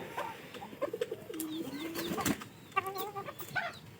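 Pigeons coo in a Bengali loft where a female pigeon has raised chicks, giving repeated low, throaty coos close by with scattered softer calls and faint wing movement, no talking.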